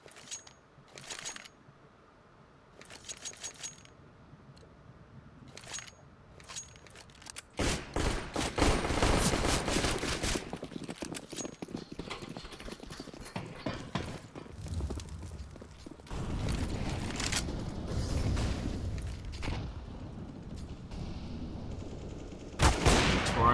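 Rifle fire in a Counter-Strike match on the Nuke map: bursts of automatic gunfire and single shots, some sharp and near, others distant, with footsteps and clinks between volleys and a long, dense firefight in the middle.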